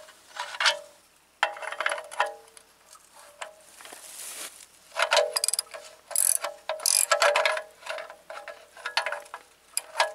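A ratchet wrench tightens the drain plug on a Farmall 806 tractor during an oil change, close by with bursts of rapid clicking broken by short pauses.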